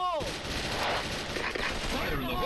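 Rapid bursts of double-barrel shotgun gunfire in a multiplayer shooting game crackle almost continuously, loud and dense, with a voice briefly audible beneath the shooting.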